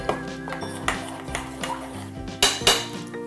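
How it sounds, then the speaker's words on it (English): Flour and water being stirred together in a bowl for a sourdough starter, a spoon knocking and scraping against the bowl in uneven clinks and taps, close and fairly quiet, with no voices. "All we're going to do is mix this and make sure that all of the dry bits are gone."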